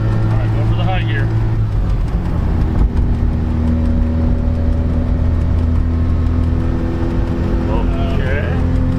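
Worn rotary-engined pickup truck left abandoned, cruising in high gear on a freezing road trip, with a steady droning engine and road roar throughout while people talk over it inside the cab.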